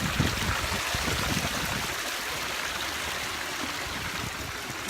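River water rushing and churning in a steady, loud, broadband wash close by, continuous for the whole stretch with no talk.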